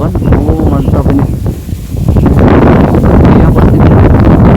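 Strong wind blowing at night outdoors, a loud, continuous gusting roar buffeting the microphone with rustling, while someone talks over it.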